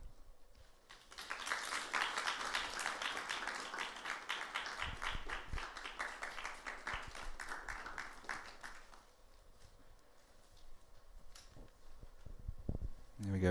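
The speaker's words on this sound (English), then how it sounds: "Can you give them a round of applause?" Audience applause for speakers returning to the stage at a conference session, a moderate round of clapping that builds, holds and tapers off into room noise and a few scattered claps.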